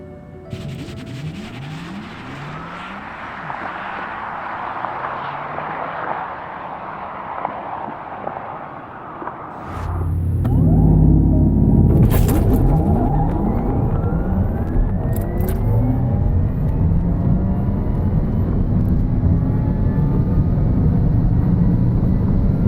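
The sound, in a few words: Porsche Taycan Turbo S electric car accelerating down runway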